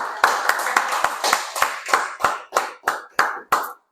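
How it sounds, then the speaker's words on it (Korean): A church congregation claps together in unison during a Sunday service, about eleven sharp, evenly spaced claps in a steady beat, loud and close, then stops. "박수 한번."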